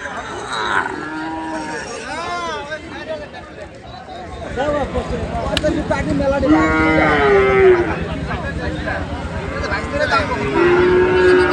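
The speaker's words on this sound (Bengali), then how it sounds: "হ্যাঁ, দেশি লাল ষাঁড়।" Several cattle, including local red bulls, moo loudly and repeatedly, close by at a livestock market in Hanskhali, with people talking and a busy crowd murmuring throughout.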